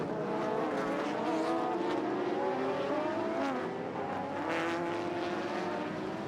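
Japanese GT racing cars from the 1999 JGTC season, Toyota Supras and Honda NSXs, roar through the opening corners in a steady, loud blend of engines with rising and falling pitch as cars pass, with no talk.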